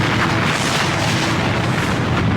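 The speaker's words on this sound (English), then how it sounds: "The first explosion blows out a wall." A chemical plant tank exploding during a fire, a dense, loud, sustained roaring blast with rumbling low energy filling the whole stretch, no voices.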